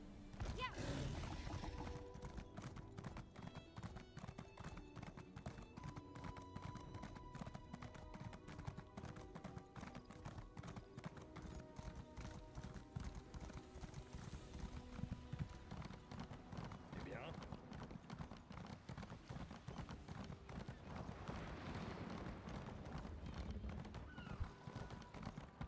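Steady clip-clop of horse hooves trots on continuously in The Elder Scrolls Online, with a whinny near the start, over game background sounds and someone talking throughout.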